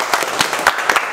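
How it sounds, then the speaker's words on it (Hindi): A small classroom group learning mobile phone line repair claps loudly and close, a quick run of distinct, uneven hand claps rather than a full roar. "जोरदार तालियां दे।"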